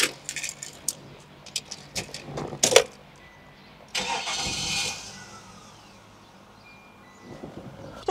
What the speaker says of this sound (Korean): 그럼 시동을 한번 걸어보도록 하겠습니다.